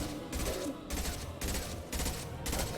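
Sustained gunfire in Mass Effect 2, dense pulsing bursts of automatic fire roughly every half second, loud and continuous across the whole stretch with no pause.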